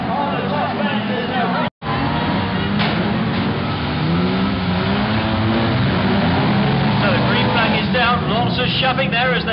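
Banger racing cars roar around a stadium oval, a loud continuous wall of engine noise and revving crowding the track, with a commentator talking over it throughout and a brief cut near the start.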